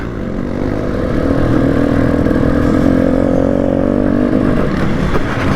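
A 300cc two-stroke enduro motorcycle ridden on a muddy off-road trail during a charity scramble, its engine held at a loud, raspy high-revving buzz with clattering and scraping throughout, close and continuous.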